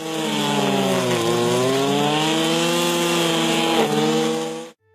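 A weed cutter machine with a nylon rope cutting head runs at a steady, close engine whine, its pitch dipping and rising under load before it cuts off sharply at the end, with no talk.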